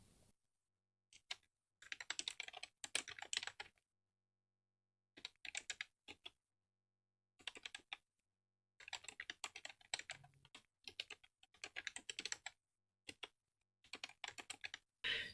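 Bursts of computer keyboard typing come in short, irregular runs separated by silent pauses, fairly close and clear, with no talking.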